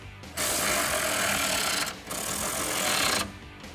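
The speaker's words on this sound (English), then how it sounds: "Grab your 10mm socket and tighten it down." A 10mm socket is driven to tighten the bolts of a black 6-inch nerf side step bar on a 2019-2020 RAM 1500. It makes two close, buzzing mechanical bursts, each lasting a second or more, with a brief gap between them.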